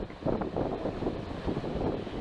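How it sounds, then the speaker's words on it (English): Wind buffets the microphone in low, rumbling gusts that swell and ease continuously, with no voices, at a lighthouse on the Pacific coast at Cape Disappointment in July. "we'll see how it sounds with the wind. It is very windy here."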